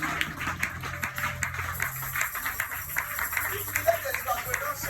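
A church congregation claps for the Lord, fairly loud and continuous across many hands, with voices and a faint sustained tone in the background.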